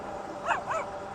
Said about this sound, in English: Little dog tried to get you.